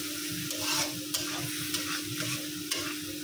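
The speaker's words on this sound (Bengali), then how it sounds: "হলুদ, মরিচ, স্বাদ মতো লবণ, ধনিয়ার ফাঁকি, চিংড়ি মাছটা এই যে একসাথে দিয়ে এখন মাছটা কষায় নেব" Shrimp with turmeric, chili, salt and coriander sizzles and fries in a pan while being stirred, giving steady close frying hiss with a few sharp scraping stir strokes and no talking.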